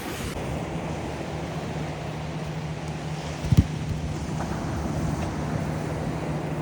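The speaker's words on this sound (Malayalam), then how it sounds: "നമ്മൾ ഈ വഞ്ചിയിലാണ് പോണേ കേട്ടോ." A small fishing dinghy out on the sea, its steady low engine drone running with wind and wave wash throughout, a brief bump or thud midway.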